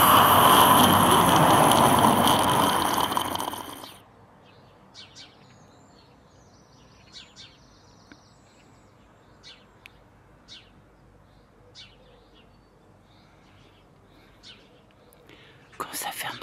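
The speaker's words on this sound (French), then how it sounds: "on entend le chant des oiseaux" Small birds chirp and sing outdoors at sunrise, brief scattered high calls spread across a quiet morning, preceded by a loud broadband rush of noise for the first few seconds and a short burst at the end.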